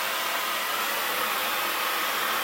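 A hair dryer blows steadily during a hair blow-dry, a constant loud airy whoosh with no break and no voices.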